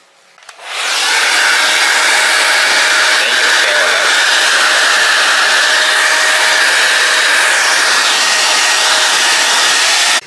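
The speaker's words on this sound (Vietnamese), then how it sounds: "Hay chúng ta dùng cái máy sấy tóc" Hair dryer switched on and blowing steadily to heat the adhesive of an ostomy bag base, a loud continuous rushing whir that starts abruptly and holds for about ten seconds, with no voices.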